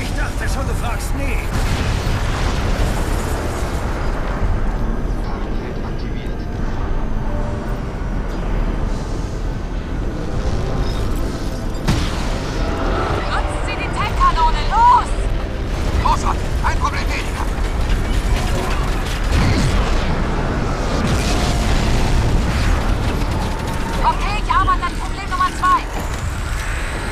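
In the Crysis video game, a tech cannon fires and heavy explosions rumble in a dense, continuous din of booms and mechanical clanking, with voices heard throughout.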